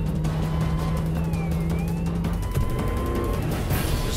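A car engine drones steadily and close, with shifting tonal whines and tire noise as the vehicle drives through a restricted area, loud and continuous without speech.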